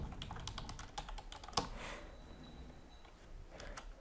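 Quiet keystrokes on a computer keyboard, a run of light, irregular taps with one sharper click, close but faint, without talk.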